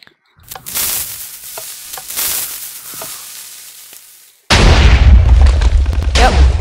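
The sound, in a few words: TNT cannon explosion in Minecraft video game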